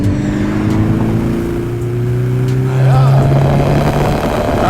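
A loud Volkswagen Golf VR6 engine revs up hard on a track's main straight, pitch climbing steadily as it accelerates, then surges louder toward the end with a rising whine.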